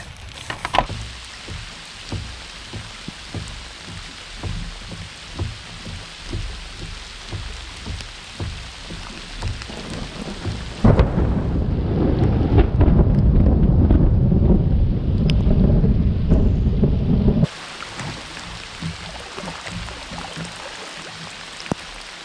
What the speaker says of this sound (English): So lightning is striking all around me pretty quick.